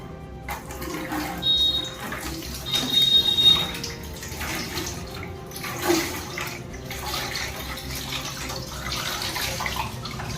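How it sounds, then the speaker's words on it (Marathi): Water pours from a bucket onto an Oppo F27 Pro Plus 5G phone, a steady splashing wash with a few louder surges, heard fairly close without talk. "या फोनवरती मी लाईव्ह पाणी टाकून दाखवत आहे"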